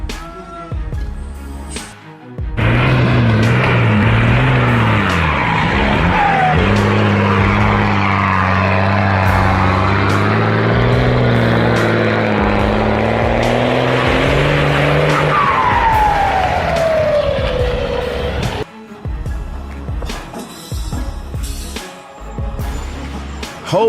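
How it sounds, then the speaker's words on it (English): A heavily loaded truck engine roars as it climbs a steep dirt hill, a loud sustained labored drone with shifting pitch lasting about fifteen seconds before cutting to quieter sound. "That engine must be roaring with all its might to climb that hill"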